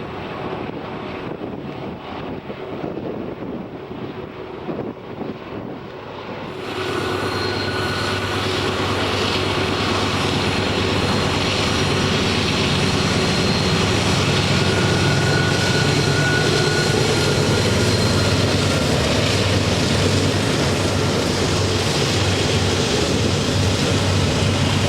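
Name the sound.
BNSF container train with five locomotives passing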